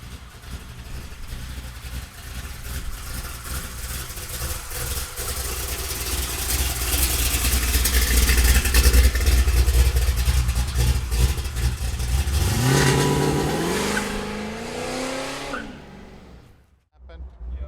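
A 1967 Chevrolet Camaro with a 572 engine rumbles at a loud, steady idle, then swells and revs higher toward the end before cutting out briefly.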